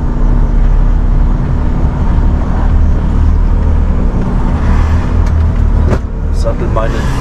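Loud, steady engine rumble from inside a truck cab as it drives over to a hall, with a few light rattles and clicks near the end.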